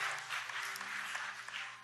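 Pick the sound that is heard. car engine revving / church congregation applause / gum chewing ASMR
church congregation applause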